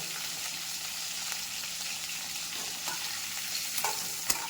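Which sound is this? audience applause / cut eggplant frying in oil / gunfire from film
cut eggplant frying in oil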